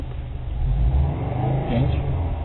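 A rally car at a sprint rally stage in Orneta pulls away from the start line with a loud, close engine rumble that rises and holds as it revs and accelerates away.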